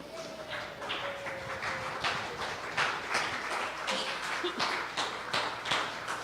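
Church congregation applauding together in a steady spread of claps, moderately loud and fairly even throughout, with a faint sustained tone underneath.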